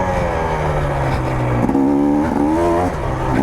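A GasGas dirt bike engine revs up and down close by, its pitch rising and falling in several surges over a continuous throaty drone, with no talk.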